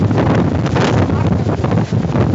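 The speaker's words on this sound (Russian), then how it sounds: "Вот такой ветрище дует." Strong, gusty wind buffets a garden where roses have been broken, roaring loudly and steadily with rushing surges and heavy microphone buffeting throughout, with no voices over it.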